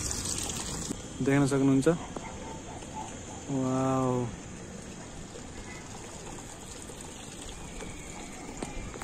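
Water runs steadily from a tap while shoes are soaked for washing in a hostel, a soft continuous gushing hiss under two short bursts of talk.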